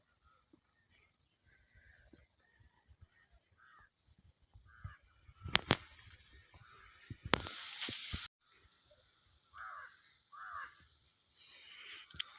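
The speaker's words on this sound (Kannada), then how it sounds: "ಕಾಗೆ ಸೌಂಡ್ ಬಿಟ್ರೆ ಬೇರೆ ಯಾವ ಪಕ್ಷಿಗಳ ಸೌಂಡು ಕೇಳಿಸೋಲ್ತು ನನಗೆ" Crows cawing in a forest during a jungle trek, a few sharp harsh calls at moderate distance standing out against quiet surroundings, with faint rustling and occasional soft noises between them.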